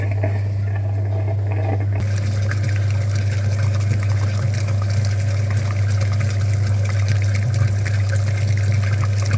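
Steady gurgling flow of coolant flush liquid through a Mitsubishi Lancer 9's dirty engine cooling system, with a constant low pump hum underneath, continuous throughout and fairly close.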